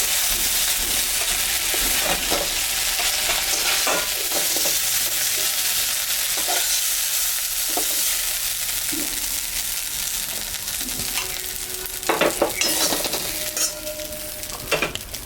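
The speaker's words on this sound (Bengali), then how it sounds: "মাছটা ভাজা হয়ে গেছে" Steady hissing sizzle of fish frying in oil, with occasional light stirring clinks and scrapes near the end; no talking.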